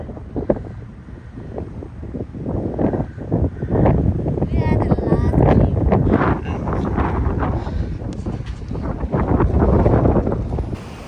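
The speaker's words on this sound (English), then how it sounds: "outside we're catching the ferry across to the other side here" A ferry crossing out of port near the entrance to Port Phillip, Victoria, with strong wind buffeting the microphone and a low engine and water rumble throughout, sustained and fairly loud.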